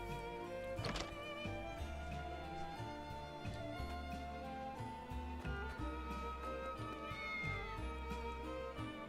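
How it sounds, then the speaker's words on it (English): Cat in the video game Triangle Strategy, meowing briefly near the start over a busy music and game-effects soundtrack, quietly mixed. "There's an actual cat there."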